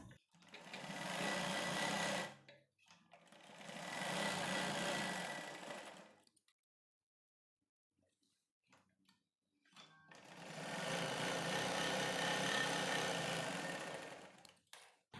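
A sewing machine stitches a blouse in three bursts of steady, close whirring, the first two a few seconds each and the last longer, separated by a near-silent gap while the cloth is repositioned.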